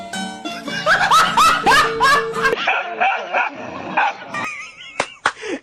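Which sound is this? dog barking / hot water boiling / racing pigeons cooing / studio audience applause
dog barking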